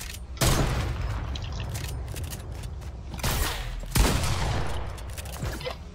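Sniper rifle fire in a video game: a sharp, loud shot opens, a rumbling, crackling stretch follows, and a second booming shot lands near the end over continuous game noise.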